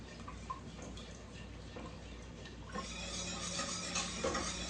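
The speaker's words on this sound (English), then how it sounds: "be sure you're constantly stirring or whisking your sugar until it starts to dissolve" Sugar for teriyaki sauce is stirred or whisked in a pot on a stovetop over medium heat, giving steady soft scraping and light utensil clinks that grow louder and busier partway through, with no talking.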